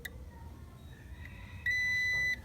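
A continuity tester beeps while checking a fuse: a few soft short chirps, then one loud sustained electronic tone lasting under a second, close and clear over a quiet background.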